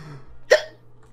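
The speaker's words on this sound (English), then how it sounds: "Oh, dear, hiccups." A single short hiccup from one person, close and fairly quiet, sounding alone against a faint low hum.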